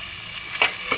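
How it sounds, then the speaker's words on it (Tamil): Tomatoes sautéing in a pan for chicken biryani give off a steady hiss of frying, with a couple of brief louder stirring scrapes toward the end. "இப்போ தக்காளி நல்லா வணங்கிடுச்சு"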